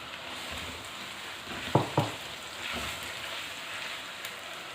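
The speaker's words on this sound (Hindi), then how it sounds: "अब इस कीमे को हम पकाएंगे इसके साथ" Minced chicken keema fries in a pan with a steady hiss like light rain, broken by two quick close spatula knocks in the middle, otherwise even and moderately loud.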